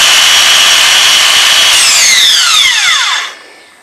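A Makita BSS611Z cordless 6 1/2 inch circular saw whines loudly at full speed, then is switched off and spins down over about a second, its pitch sliding downward before it falls quiet.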